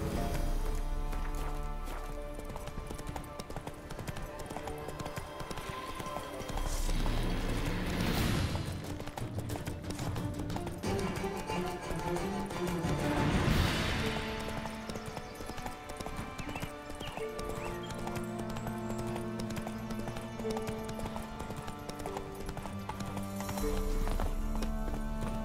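Horse hooves gallop in a steady clip-clop rhythm through The Witcher 3's Velen region, with an occasional whinny, running continuously over game music and ambient sound.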